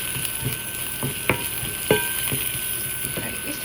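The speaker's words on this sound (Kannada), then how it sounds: "ಇದನ್ನು ಚೆನ್ನಾಗಿ ಫ್ರೈ ಮಾಡ್ಕೊಳ್ಳಿ." Asafoetida frying in oil in a pan gives a continuous close sizzle, with a few sharper stirring clacks from a spatula against the pan, no talk.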